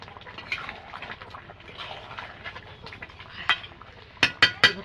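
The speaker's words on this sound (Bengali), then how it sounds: "এটা একটু খুন্তি দিয়ে গালিয়ে দেবো।" A metal spatula mashes and stirs chui into a pan of mutton curry. Soft bubbling and stirring play throughout, ending in three sharp, close scrapes against the pan.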